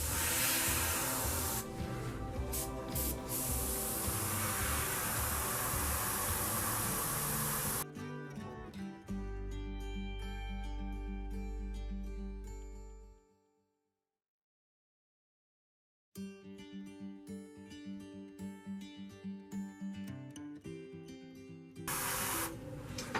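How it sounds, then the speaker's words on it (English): An airbrush sprays paint onto an RC car body, a loud close hiss in sustained bursts that cuts off into a few seconds of silence before resuming, with mechanical rattling layered over parts of it. "just want to put a couple drop in your airbrush. And make sure that the color coming out very clean"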